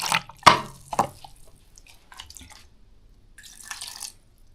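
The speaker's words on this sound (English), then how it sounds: "Then I add some water." Water is added to blended ginger for ginger shots: a few sharp clinks and drips come first, then a short, light splashing pour near the end, in an otherwise quiet kitchen.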